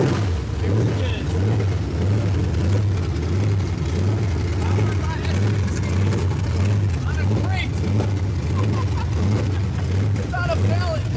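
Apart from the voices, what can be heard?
truck engine running after first start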